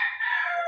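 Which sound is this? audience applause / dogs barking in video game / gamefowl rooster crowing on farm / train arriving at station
gamefowl rooster crowing on farm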